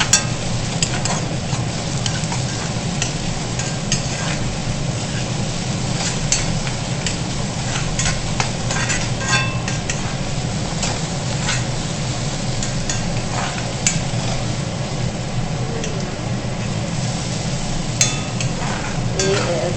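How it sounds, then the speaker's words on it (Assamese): Ginger-garlic paste fries noisily in hot oil for swamp eel curry, with a dense, continuous sizzle and constant scraping from a stirring spatula close by. "আদা নহৰুখিনি আকৌ লৰাই থাকিব"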